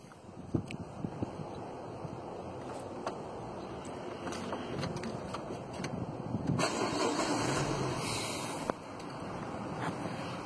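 A cheap auction car's engine turns over and catches, then idles steadily with a broad rumble and some wind noise outdoors.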